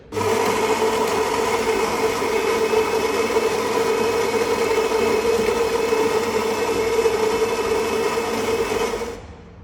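A Philips LatteGo automatic coffee machine grinds and brews caffè crema, producing a steady, loud mechanical whir and pump buzz that runs for several seconds, then cuts off abruptly.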